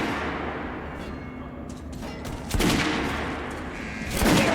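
Gunfire at a shooting range in Metro Last Light, a few sharp loud shots with echoing tails over a low ambient hum, spaced a second or two apart.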